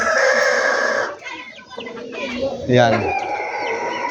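Domestic chickens and a rooster in a farmyard, loud close clucking and a crow breaking through, with someone speaking briefly in between.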